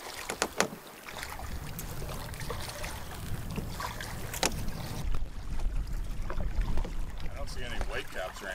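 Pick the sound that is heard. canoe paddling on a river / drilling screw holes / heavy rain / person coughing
canoe paddling on a river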